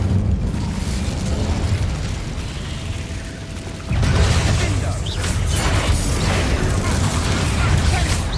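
An Incendio fire spell in Hogwarts Legacy erupts with a sudden loud whoosh and roaring burst that continues as a dense, rumbling blaze after a steady mechanical background, with a brief spoken voice.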